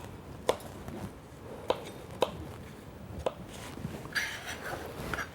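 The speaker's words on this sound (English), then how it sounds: "And then I cut them again." A kitchen knife chops diced potatoes on a cutting board, with four or five crisp, evenly spaced taps against the board, close and moderately loud, over a soft room background with no talking.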